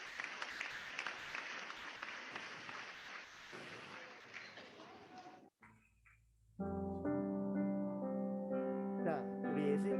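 Children clap together at an elementary Sunday school worship service: dense, loud applause for about five seconds, then a short hush before music starts.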